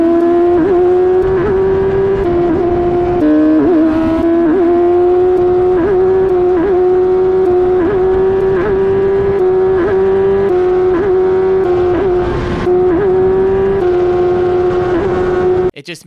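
An F1000 race car engine howls at high revs on the Silverstone circuit, loud and close, with brief repeated dips and stutters where a faulty flat shifter cuts the power, then abruptly stops at the end.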